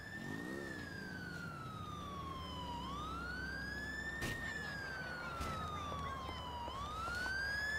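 A wailing police siren in GTA IV rises and falls slowly and steadily over a constant engine-like rumble, fairly faint, with a couple of brief knocks.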